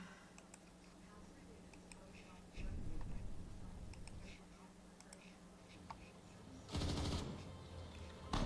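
Machine gun fire in the Total War: Rome 2 video game, faint rapid ticking bursts over a low steady game hum, with a louder burst of fire near the end.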